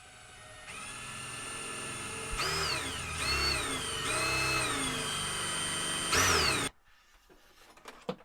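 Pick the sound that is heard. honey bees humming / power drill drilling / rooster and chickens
power drill drilling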